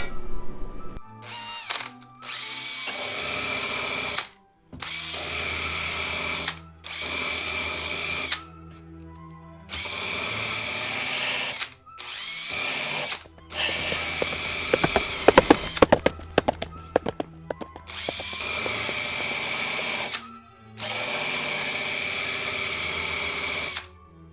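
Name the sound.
pin sander on broken guitar headstock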